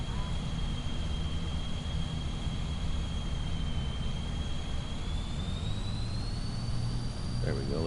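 A farm vehicle's engine in Farming Simulator 25 drones loudly and steadily, its whining tone holding level and then climbing in pitch partway through as the machine speeds up.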